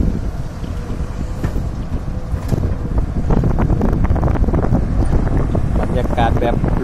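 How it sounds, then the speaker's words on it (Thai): Strong wind buffets the microphone at an outdoor excavation site where an SK200 excavator is digging, a loud continuous rumbling roar with gusty surges that grows stronger toward the end. "บรรยากาศแบบลมแรงครับ"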